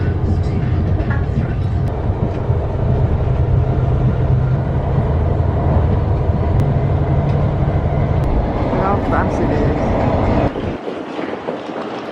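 Loud rumbling train noise inside London's Paddington Station, steady rolling and clatter with a low hum, faint voices in the background, dropping off abruptly near the end.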